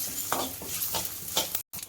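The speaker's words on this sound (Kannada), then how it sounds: "ಉದ್ದಿನ ಬೇಳೆ ಚೆನ್ನಾಗಿ ಫ್ರೈ ಮಾಡಿಸ್ಕೊಳ್ಳೋಣ" Urad dal fries and is stirred in a pan, bright sizzling broken by quick scraping strokes of a spoon, close and steady with one brief cut of silence near the end.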